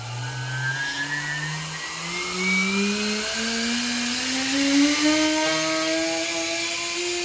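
A small 3D-printed air blower motor spins up with a whining tone that climbs steadily in pitch over several seconds, close and fairly loud, with a breathy rush of air beneath it and no talking.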